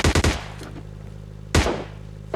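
MK rifle fire in PUBG Mobile Lite: a quick burst of three sharp close shots, a pause, then a single loud shot followed by another starting at the end, with ringing tails between.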